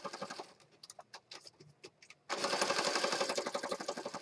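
Sewing machine stitching around a small image on a journal page, opening with a few slow separate stitches, then breaking into a fast steady run of close, rapid needle clatter.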